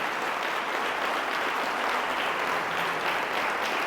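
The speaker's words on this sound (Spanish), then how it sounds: "Dale un aplauso al Señor" Steady applause from a church congregation during a sermon, a continuous even roar of many hands clapping at moderate loudness, heard alone without speech.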